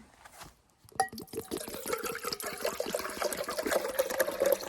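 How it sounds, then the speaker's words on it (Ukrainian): Half a litre of water pours from a half-litre bottle into a camping cooking pot, a faint steady trickle and gurgle that starts after a short quiet pause and keeps running with small splashes. "беру рівно пів літра води, пляшку півлітрову. Сюди все заливаю."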